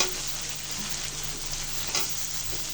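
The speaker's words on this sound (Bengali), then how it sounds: "সব কিছু দিয়ে ভালো করে কষিয়ে নিব।" Spiced masala with tomato and roasted cumin powder sizzles in a pan while being stirred for chola bhuna, a close, continuous frying crackle with a brief scrape, no voices.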